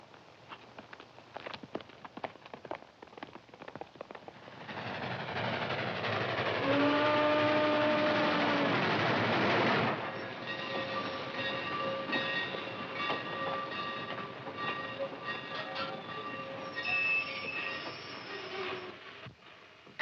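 A steam train rolls past, its whistle sounding in a sustained blast as the heavy rumble swells and then fades, followed by lingering whistle tones and rail clatter, with no one speaking.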